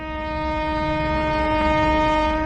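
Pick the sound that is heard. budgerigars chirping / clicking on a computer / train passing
train passing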